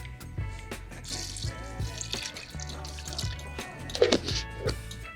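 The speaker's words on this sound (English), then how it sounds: "with the 8 cups of vegetable broth, we're going to do 4 cups of water" Water is poured and splashes into a pot of vegetable soup made with broth, an uneven close trickle with drips and clinks, louder near the end.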